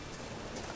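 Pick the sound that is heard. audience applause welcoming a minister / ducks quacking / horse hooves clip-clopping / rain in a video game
rain in a video game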